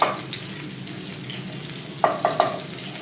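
Butter melting in a kadhai of hot oil for white sauce pasta, a soft steady sizzle close by, with three quick metallic spoon knocks near the end.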